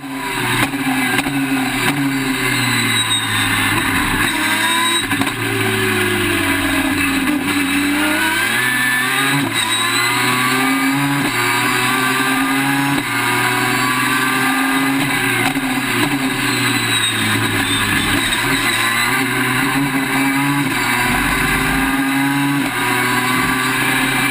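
A 3-rotor Mazda RX-8 race car with a carbon fibre shell screams at high revs, its engine note rising and falling steadily for about 24 seconds, loud and close with no talk.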